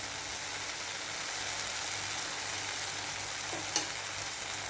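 Tomatoes and spices sizzle and fry steadily in a hot pan for an eggplant gravy, a continuous crackling hiss with a brief clink of a utensil near the end.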